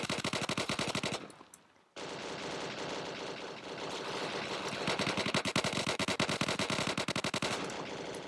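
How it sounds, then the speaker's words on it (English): Automatic M16 rifle fire in a Roblox neighborhood war game, rapid continuous bursts of loud clattering shots with one short break near the start, then sustained fire to the end, with no voices. "Dude, I love this M16. This M16 shreds."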